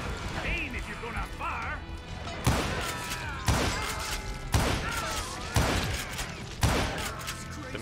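Gunfire in the Western shooter Call of Juarez Gunslinger: about five sharp, loud shots at roughly one-second intervals, each with a short ringing tail, heard alongside game sounds and a voice.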